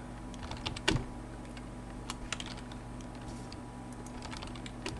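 Keystrokes on a computer keyboard as a password goes in for an SSH login to a web server, a quiet scattered run of light clicks with one sharper tap near the start, no talking.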